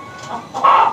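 Chickens cluck in two short bursts, the second louder and closer, with no talk over them, as breeding hens and roosters are looked over on a poultry farm.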